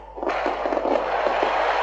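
Fireworks at a football celebration crackle in a dense, rapid string of pops and bursts that begin abruptly and keep going loud to the end.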